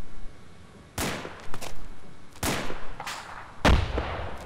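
Gunfire in the Arma 2 video game with the ACE mod, during a co-op mission in Takistan: three sharp, loud shots spaced about a second and a half apart, each followed by a rolling echo, with fainter shots in between.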